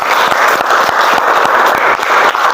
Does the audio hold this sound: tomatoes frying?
no